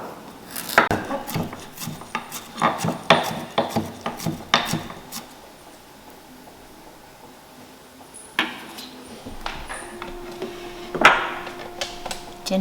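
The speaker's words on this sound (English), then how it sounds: "I'm going to chop a green onion and ginger" A knife chops green onion and ginger on a cutting board, sharp irregular knocks in quick bursts, then a pause and a few scattered cuts, close and fairly loud with no talking.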